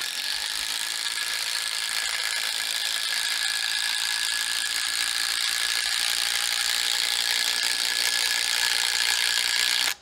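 A fully charged DeWalt impact driver set on high drives a long 12-inch lag screw with a loud, steady rapid hammering rattle that continues for about ten seconds before stopping sharply.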